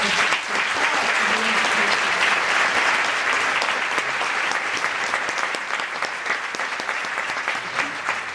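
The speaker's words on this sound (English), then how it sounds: "Let's give a round of applause." An audience at a ribbon-cutting for a new K-8 public school in East Baltimore claps. The dense, sustained applause easing slightly toward the end, with no talking over it.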